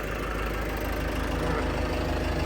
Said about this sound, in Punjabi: ਆਵਾਜ਼ ਸੁਣੋ ਟਰੈਕਟਰ ਦੀ ਕਿਆ ਘੈਂਟ ਆ